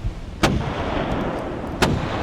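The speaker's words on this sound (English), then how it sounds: "The sound of cannons." Two heavy naval cannon shots boom in the video game Dagon, each a sudden loud blast about a second and a half apart over a steady rumbling sea-like background.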